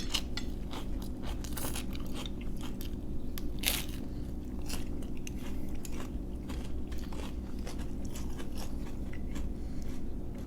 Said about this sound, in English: Help your woman chew her food today, men.